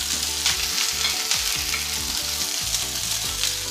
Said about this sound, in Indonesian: lalu tumis bawang putih dan jahe